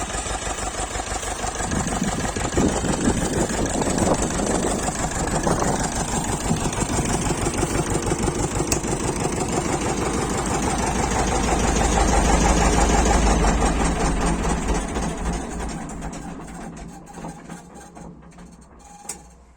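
Ursus tractor engine idling close by with a steady rhythmic chug, which then slows and fades away as the engine shuts down.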